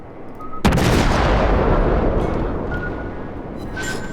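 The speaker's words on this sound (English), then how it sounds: "Maybe I should fire without aiming a little bit more often. Or just sort of instinctively shooting." Warship artillery guns firing in the World of Warships video game: a single loud, close cannon blast with a long rumbling decay, and no talking.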